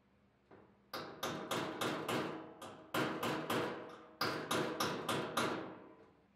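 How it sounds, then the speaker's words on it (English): Repeated sharp hammer blows on the tab of a replacement truck door skin fitted onto the door shell, about a dozen close, loud metallic strikes in uneven bursts with brief ringing decay. "You saw I had to do a little hammer work on the tab"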